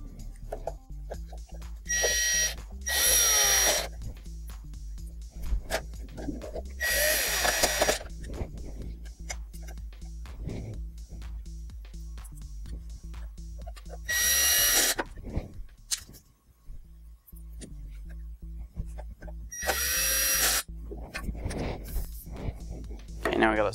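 Power screwdriver driving screws back into a Mitsubishi DLP TV during a color wheel repair, heard as several loud whirring bursts of a few seconds each, close, with someone talking between them.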